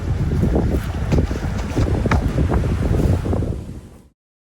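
Strong wind buffeting a microphone outdoors on a road where road and time-trial bikes are being compared, a loud, continuous roar with gusty rumbling that cuts off abruptly near the end.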